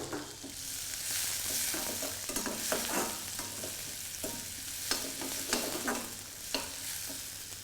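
Onion and green chillies sauté in oil with a continuous soft sizzle and irregular scraping stirs of a spatula against the pan.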